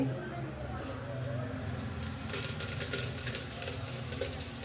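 Oil sizzles steadily in a pan with coriander and turmeric, a continuous moderate frying hiss with light stirring and a voice speaking over it.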